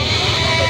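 A goat bleating at a goat market in Padre Garcia, Batangas: a single short, close, loud bleat.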